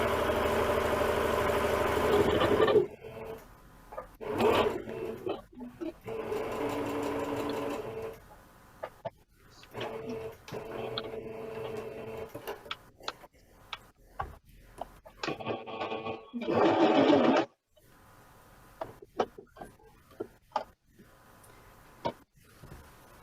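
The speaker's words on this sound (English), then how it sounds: "now I'm going to sew down this" A sewing machine stitches down a seam on a bag, running in several loud bursts of steady whirring with short pauses between them, close by with no talking.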